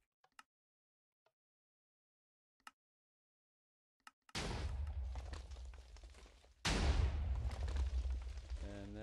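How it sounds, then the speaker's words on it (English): TNT cannon in a Minecraft-style video game firing: faint clicks, then a loud explosive blast rolling on for about two seconds, followed by a second, even louder boom that lingers to the end. "I've gotten this filled up with TNT, so now I'm going to shoot it to show you guys that it works"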